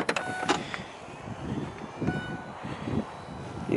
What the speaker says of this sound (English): This car's specced with the electric tailgate,